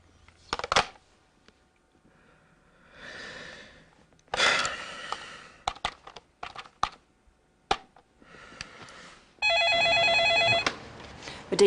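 Telephone rings with a short sustained electronic trill near the end, loud and close, following scattered clicks, keyboard taps and breathy rustles.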